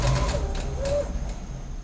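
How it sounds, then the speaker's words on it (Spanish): A sewing machine runs a wide basting seam on fabric for garment making, giving a steady close whirring hum with a few brief higher whines, moderately loud and alone. "vamos a pasar una costura ancha para después quitarla"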